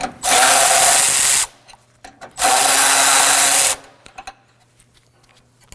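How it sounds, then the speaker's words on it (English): Two loud, broadband bursts of a powered socket driver spinning out the 10mm radiator bracket bolts on an Acura MDX, each lasting about a second, separated by quiet clinks and handling noises. "gonna be removing this bracket to give us more room to remove the radiator using a 10mm socket"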